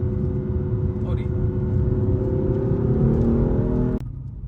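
A BMW M4 F82 with its S55 engine pulls hard in sport mode, the loud, close engine note climbing steadily in pitch for about four seconds before cutting off abruptly.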